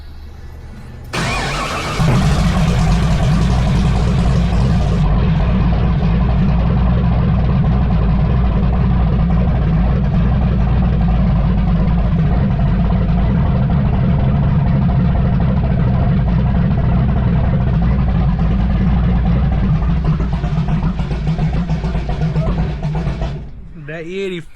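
Chevrolet C10 truck running on E85 cranks and fires after a brief pause, then settles into a loud, steady, close idle with a deep rumble for about twenty seconds before shutting off.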